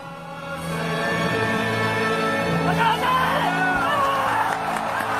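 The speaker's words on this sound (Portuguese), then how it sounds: "Som traz o último grito de apoio para acordar o time." A stadium crowd at a World Cup match between South Korea and Ghana roars and shouts in support of the team, a dense, sustained wall of voices that swells slightly midway.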